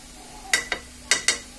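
A spoon scraping through carrot halwa in a pan as milk powder is stirred in, four short sharp scrapes in quick pairs over a low background hum, close and fairly soft.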